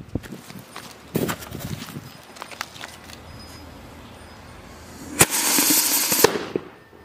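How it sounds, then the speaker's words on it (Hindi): A firework rocket burning inside a big hole in the ground fizzes and crackles with scattered pops, then a loud, sustained hissing burn roars for about a second before cutting off. "भाई काफी जबरदस्त तरीके से रॉकेट जला है अंदर"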